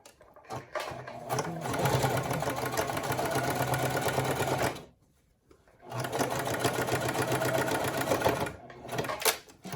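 A sewing machine stitches a pant hem in two long, steady runs of fast mechanical whirring separated by a brief pause, close and loud, ending with a few short starts.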